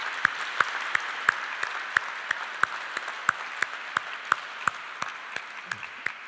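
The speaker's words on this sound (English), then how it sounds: "Applause." Sparse, evenly spaced claps ring out over a quiet hum at a university welcome ceremony for a master's programme, a thin round of applause rather than a full crowd.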